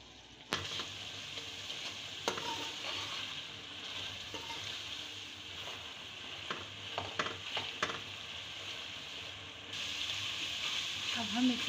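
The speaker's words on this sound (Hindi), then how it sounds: "अब इसको हम भून लेंगे।" Tomato masala for stuffed round gourd fries in a pan with a soft, steady sizzle, broken by occasional spoon stirs and scrapes, fairly quiet and close.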